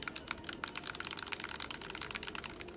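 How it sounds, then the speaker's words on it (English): Computer keyboard typing, a fast, irregular stream of crisp key clicks at close range, steady throughout, with no voices. "Hope you like clicking."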